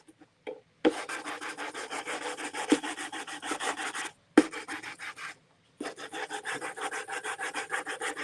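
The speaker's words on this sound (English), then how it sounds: "We are almost done sanding." Hand sanding a plastic ghost blow mold up close: long rasping back-and-forth strokes in three extended bursts separated by brief pauses, with no talking.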